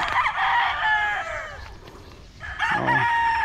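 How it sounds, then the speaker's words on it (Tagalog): Backyard chickens: a rooster crows loudly and close by, then a second crow follows after a short pause, with faint clucking from other fowl around it. "Ito yung mga manok natin"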